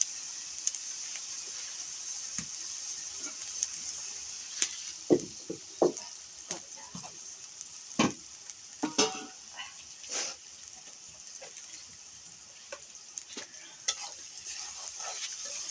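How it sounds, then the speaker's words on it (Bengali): Food frying in a pan is stirred with a spatula, giving scattered scrapes and clinks over a faint, steady sizzle in a quiet home kitchen. "এখন নাড়া হচ্ছে ভালো করে যেন ওইটা ভেজে যায়"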